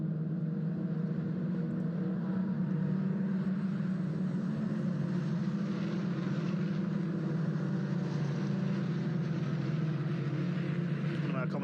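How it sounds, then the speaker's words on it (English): Citroën Saxo VTR 1600cc race cars lapping Donington Park, a steady droning engine note held across the whole stretch, somewhat distant, with a commentator's voice running over it. "They are Citroën Saxo VTRs, all 1600cc."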